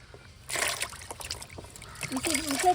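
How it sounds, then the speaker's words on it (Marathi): Salted seawater is poured into a tub holding live mudskippers, producing bursts of splashing and sloshing, with a person talking over it. "थोडा टपन पाणी टाकायचा, तो पण खारा, आणि त्याच्यात मीठ टाकायचं"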